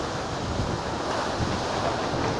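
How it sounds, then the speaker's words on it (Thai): Strong wind ahead of a rainstorm in Mae Sai rushes as a continuous broadband roar with gusty low-end buffeting, no talk heard. "ในที่สุดฝนก็จะตกแล้วแต่ตอนนี้มีแต่ลม"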